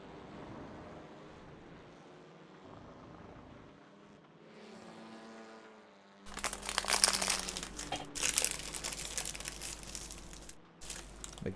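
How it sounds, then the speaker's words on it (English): Loud crinkling and rustling close to the microphone inside a race car during the 6 Hours of Donington Park endurance race, bursting in after a quiet stretch of engine hum and continuing in rough, uneven waves. "Ignore the crinkling."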